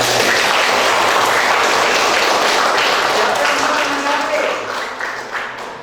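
A classroom of students claps together in a thick burst of applause that stays loud for several seconds before thinning and fading out toward the end, with a faint murmur of voices underneath.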